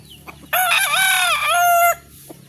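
A rooster crows once, loud and close, a long drawn-out call that holds steady and then falls away, with faint background noise on either side.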